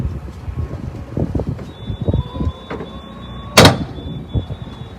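A Fairline Targa 45 Open yacht's hydraulic bottom platform closes with mechanical creaks and a high whine, then lands with one sharp, loud knock near the end, close to the microphone.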